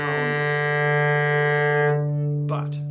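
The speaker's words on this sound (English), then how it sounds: "If your bow goes slow and heavy, it can make a really nice, beautiful, full, intense" A cello bowed slowly and heavily near the bridge, giving one sustained, full, rich low note with strong overtones, close and loud, fading out near the end before a brief touch of sound.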